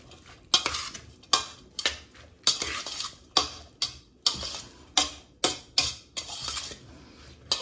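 A utensil scrapes and clinks against a bowl as a Moroccan salad is tossed with cumin and pepper, giving roughly a dozen evenly spaced taps at a steady rhythm, close and clear with no voices.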